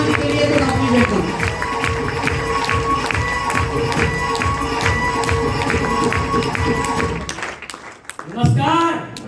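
A large audience claps and cheers loudly for a leader at a live gathering, a dense sustained roar with voices mixed in that breaks off near the end.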